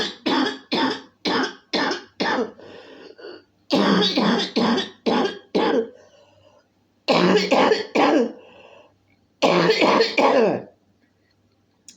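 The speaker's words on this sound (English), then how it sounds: "smoker's cough is no good for you" Harsh smoker's coughing comes in several hacking fits, each a rapid string of rough coughs separated by short pauses.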